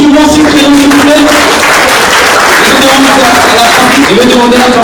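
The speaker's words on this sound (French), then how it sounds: "On va applaudir très fort pour Joe qui va s'écrire s'il vous plaît" An audience applauding for a slam performer named Joe at an event, a loud dense wash of clapping with voices and cheering mixed in throughout.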